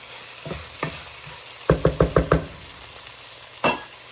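Ingredients for a Haitian bread soup fry in a pan under a low sizzle, interrupted by a quick run of five sharp spoon knocks against the pan and a few scattered single clanks.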